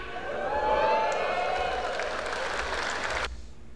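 At a Fliptop battle rap event, a live crowd erupts in cheering and applause that swells, holds loud for about three seconds, then cuts off abruptly.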